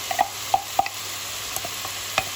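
A utensil stirs potatoes, chicken, onions, olives and parsley in a pan with a little water, making light scraping clicks at an uneven pace over a soft steady hiss.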